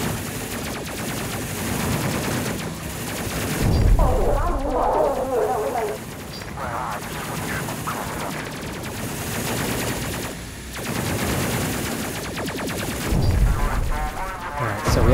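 A spaceship takes incoming weapons fire in Space Crew, with bursts of rapid gunfire and crashing impacts that come and go in waves, loud and busy over a steady background drone.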